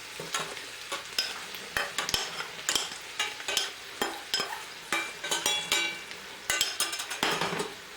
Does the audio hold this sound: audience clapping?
no